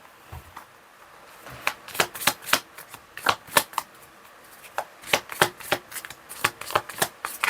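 Tarot cards being shuffled and handled during a reading: a series of crisp, close riffling flutters in quick bursts, some clustered and some spaced apart, with no talking.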